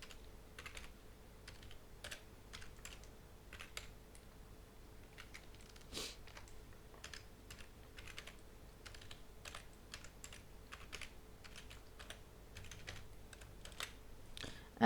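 Someone types on a computer keyboard, entering a name, an email address and a password. The quiet key clicks come in irregular bursts with short pauses between them.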